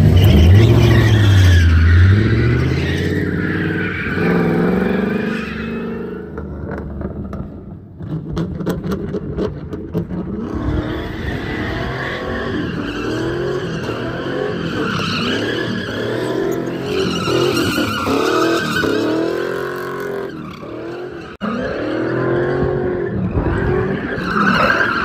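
A blue BMW drifting at the SEMA show in Las Vegas, with sustained tire squeal and engine noise rising and falling over about 25 seconds alongside crowd ambience.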